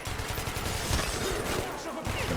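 Gunfire from the video game Metro Last Light Redux: a dense, rapid burst of loud shots rattling without pause, thick and booming low in the mix.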